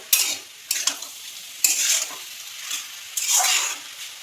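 Pui shak (Malabar spinach) being stirred in a pan of mustard oil after salt goes in: several separate bursts of scraping and sizzling, each about half a second long, with quiet gaps between them.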